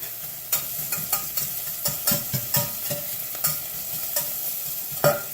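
Carrots, celery, onions, herbs, garlic and shallots sizzle in a hot pan for a bordelaise sauce, a soft frying hiss broken by repeated scraping clicks as the mixture is stirred close by.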